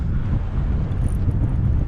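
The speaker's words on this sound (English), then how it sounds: "Sorry about the wind." Steady wind buffets an outdoor microphone while lure fishing with a 1000 Ceymar HD reel and light TT rod, a constant low rumble filling the scene throughout with no voices.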